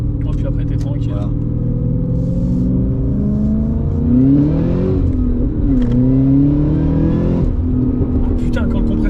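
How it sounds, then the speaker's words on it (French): Supercharged Cadillac CTS-V V8 coupe, 564 hp, accelerating from inside the cabin as its supercharger spools up, a rising whine over a steady engine drone that swells and climbs mid-pass, with someone talking over it. "Et après, il y a le compresseur, tu l'entends, il se met en route, et là, ça rajoute."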